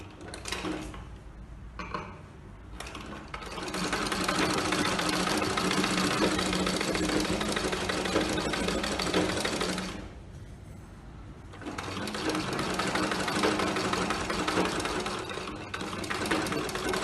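A sewing machine stitches a pencil-cut palazzo pant with a loud, close, continuous mechanical whirr. It eases off briefly near the start and again midway, then runs on steadily.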